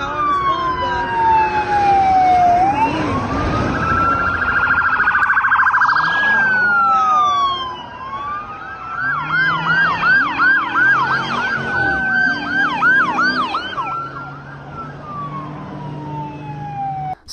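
Loud police sirens wail close by during a chase, sweeping up and down, then shift into a rapid yelping pattern as several emergency sirens overlap.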